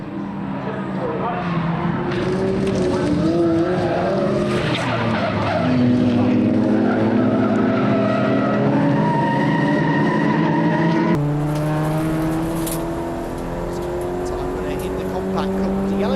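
Race cars, including a Nissan, sweep through Maggotts and Becketts at Silverstone during a GP Clubsport Trophy race, engines roaring loud and continuous with shifting pitch as cars pass, tyres squealing under the load, and a commentator talking over the top.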